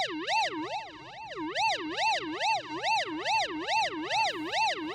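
A dub siren effect from a Roland MC-101 groovebox wails in a fast, regular up-and-down sweep, loud and electronic, repeating about twice a second with no voices.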